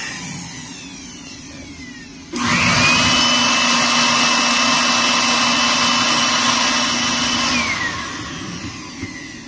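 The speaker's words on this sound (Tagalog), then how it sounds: "So ito dinagdag natin na 600 watts na blower." A 600-watt electric blower switches on abruptly and runs as a steady, loud whirring hum with a high whine, then winds down near the end against a quiet background.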